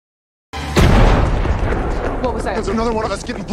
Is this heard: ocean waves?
no